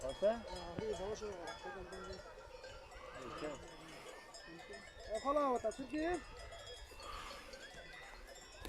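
Sheep bleat repeatedly amid a flock, with clinking bells and people talking nearby in a noisy outdoor setting.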